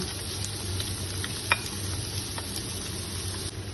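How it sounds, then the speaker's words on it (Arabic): Onion and garlic fry in hot fat in a pan for an Iraqi breakfast, a steady close sizzle with a few light stirring clicks of a utensil and no talk. "بعد ما سخن الدهن او يعني المادة الدهنية سخنت، راح نضيف البصل والثوم"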